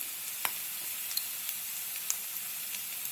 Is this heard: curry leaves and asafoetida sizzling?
yes